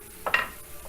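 Chicken piquant with lemon juice simmering in a pan, a brief close sizzle and stirring burst lasting a fraction of a second, then a quiet bubbling background.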